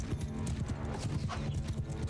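Many horses gallop together in a Mount & Blade II: Bannerlord battle, a dense rolling drum of hooves with the odd faint whinny, loud and continuous.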